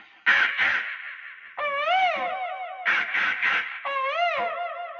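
A voice imitates a crow's caw, giving harsh nasal calls in four bursts with short pauses between them.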